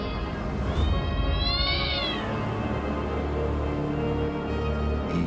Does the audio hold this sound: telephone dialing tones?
no